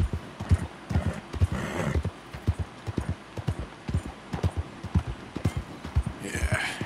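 Horse hooves clip-clop in Red Dead Redemption 2 as an old horse walks at an easy gait, an even rhythmic patter of hoofbeats, with a brief whinny-like breath and someone talking over it.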